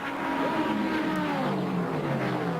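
Stock cars race at speed in a 1981 qualifying race, a loud, steady roar of many engines as the pack sweeps past, no talk.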